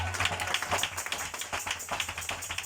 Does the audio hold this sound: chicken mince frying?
no